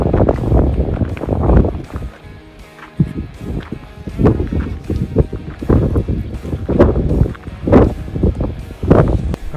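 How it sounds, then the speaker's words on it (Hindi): Cold wind gusts hard at Dhankar Lake in Spiti Valley, Himachal, roaring and buffeting the microphone in loud, uneven surges for several seconds, with no talk. "ठंडी हवा चल रही है, so it's really cold up here."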